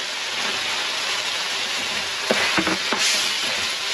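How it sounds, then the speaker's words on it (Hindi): Roughly chopped medium tomatoes drop into chicken frying in oil for a ginger chicken karahi, a steady close sizzle broken by a short cluster of wet stirring and scraping sounds. "मैंने मीडियम साइज के 2 टमाटर डाले हैं।"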